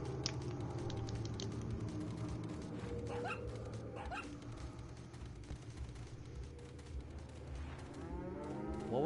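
A cow moos repeatedly in Resident Evil 4, loud and close, its long lowing calls layered over game ambience with a few sharper dog-like yips.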